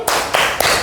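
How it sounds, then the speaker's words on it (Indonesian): A few sharp hand claps, close and loud, spaced unevenly in under a second. "Tepuk salut lagi. Tepuk salut."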